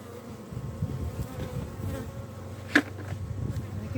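Honey bees buzzing at a hive, a dense steady hum of many insects close by, with one brief sharper sound partway through.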